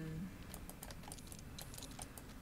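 A computer keyboard gives off a quiet, irregular patter of light key clicks, soft and close, over a low background hum, with no voices.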